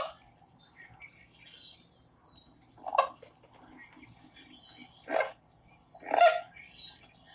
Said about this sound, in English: Sounds like a cross between a goose and a heron